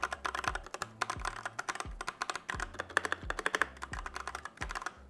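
Typing on a Royal Kludge RK84 mechanical keyboard, a rapid flurry of crisp clicky keystrokes with occasional heavier thocks, close up and continuous with no talking.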